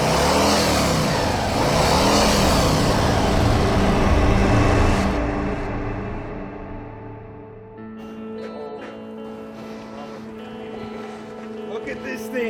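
Harley-Davidson motorcycle engine firing up and revving loud and close, a deep rumbling roar that swells then settles into a lower idle, with someone talking over it.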